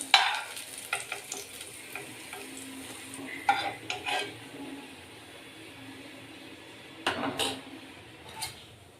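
Green chilies dry-roasting in a pan, with soft sizzling and a few scraping stir strokes of a spatula, moderately close and without talk.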